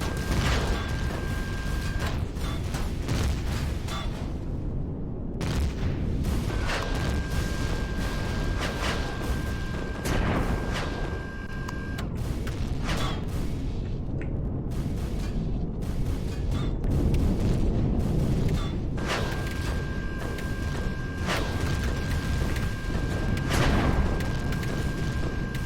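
Turret fire and booms from the space survival game Empyrion Galactic Survival, with a tank battle under way: a dense, continuous roar of repeated blasts and mechanical clatter, loud throughout, with a faint high tone coming and going.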